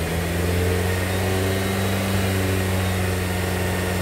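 A Kia Sorento engine with an iBoost module fitted revs steadily as the gas is pressed, a loud, close, continuous hum with strong low tones holding through the whole stretch, with no talk.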